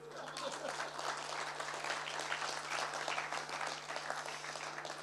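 An audience at a talk applauds in a steady, moderately loud wash of clapping that lasts throughout, over a low steady hum.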